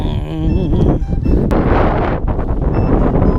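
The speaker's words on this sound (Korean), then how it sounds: "바람이, 바람이 이쪽에서 불었다, 저쪽에서 불었다는데" Strong wind buffets the microphone at a coastal fishing spot during bigfin reef squid fishing near Gijang in a southwesterly, a loud, steady, rough roar filling the whole stretch.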